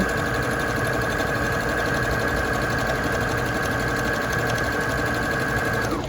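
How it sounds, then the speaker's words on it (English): A sewing machine runs continuously while decorative stitching a quilted tote, a steady fast mechanical hum and rattle with a constant whine, close and even throughout, slowing briefly at the very end. "Okay, decorative stitching happening now."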